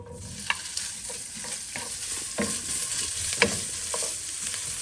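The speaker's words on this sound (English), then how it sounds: "I got my skillet heated. Just gonna put a little in there just to soften up the meat and get it started. I'm gonna cook the meat." Meat frying in a heated skillet, a continuous close sizzle with occasional sharp pops and the scrape of a utensil stirring, no voices.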